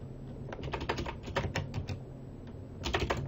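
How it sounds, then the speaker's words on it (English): Quick bursts of keystrokes on a computer keyboard as a file name is typed for a Tabletop Simulator deck, close crisp clicks in two short runs with a brief gap between. "Type in the name, I'm going to call this one LAZAV"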